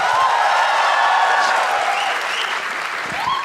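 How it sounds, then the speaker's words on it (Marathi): An audience at a stand-up comedy show bursts into steady applause, a dense wash of clapping from a crowd that stays loud and even for a few seconds and then eases slightly. "निकसाठी एकदा पुन्हा एकदा टाळ्या वाजवा सगळे"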